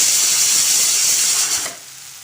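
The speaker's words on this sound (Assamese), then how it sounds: "ইয়াতে এতিয়া মই বিলাহীখিনি গলিবলৈ দিছোঁ। ভালদৰে লৰাই আছোঁ যাতে লাগি নধৰে।" Tomatoes frying and being stirred in a pan for an egg curry, a loud close steady sizzle with scraping stir sounds that drops off near the end.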